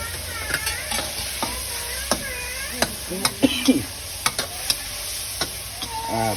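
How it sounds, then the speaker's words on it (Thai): Holy basil and meat stir-fried for spicy pad kra pao, sizzling steadily in a pan with repeated sharp spatula scrapes and clanks against the metal. "ผัดกะเพราลงไป"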